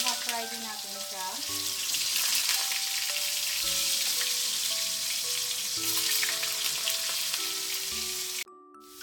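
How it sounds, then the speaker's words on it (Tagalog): Potatoes half-frying in oil in a wok for pork spareribs caldereta, giving a steady, loud, close sizzle with light stirring clinks that stops abruptly near the end. "Ang next naman natin na ipiprito ka-friendship ay yung patatas"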